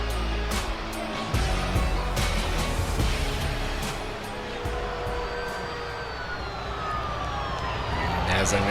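A wailing siren rises and falls in the distance over loud, dense crowd noise and rumbling.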